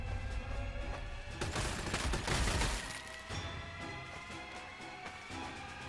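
Rapid gunfire bursts in the video game Warhammer 40k Sanctus Reach, with a dense volley peaking mid-clip over a steady game soundscape, fairly quiet overall.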